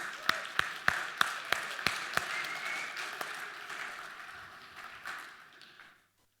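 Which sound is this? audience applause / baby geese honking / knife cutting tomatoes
audience applause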